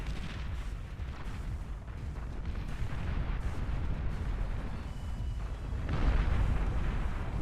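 Pop-up plasma artillery in the strategy game Beyond All Reason, a dense barrage of overlapping booms and crackling bursts rolling on continuously, swelling louder toward the end.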